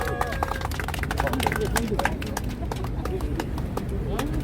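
A crowd at a press conference claps to welcome a lawmaker, with sharp, fairly close hand claps in a steady patter under background murmur.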